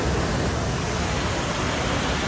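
An icy waterfall hung with icicles roars as a steady, dense rush of water, loud and close, with no voices over it.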